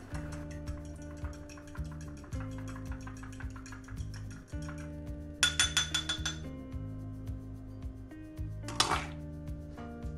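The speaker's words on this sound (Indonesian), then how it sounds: "Lalu kocok telurnya." Eggs are beaten in a bowl for crispy fried chicken, heard as clear, quick clinks and taps of a utensil against the bowl in short bursts over steady background music.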